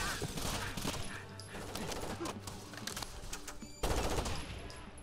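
Rapid automatic gunfire in Rainbow Six Vegas 2, steady loud bursts throughout with a louder blast near the end, game sounds layered in a busy firefight.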